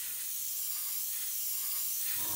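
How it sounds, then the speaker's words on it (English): Spray gun spraying thinned oil paint for a woodgrain effect, a steady, even broadband hiss that holds at full strength throughout, close and alone with no voices. "So we've got it thin now, and we can spray it down."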